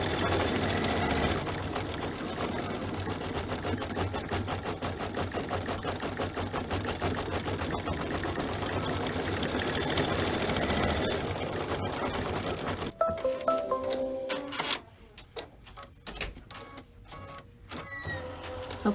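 An embroidery machine stitching out a flower design on a Kimberbell belt bag, a fast steady mechanical needle chatter running for about thirteen seconds, then stopping into quieter intermittent clicks and small movements.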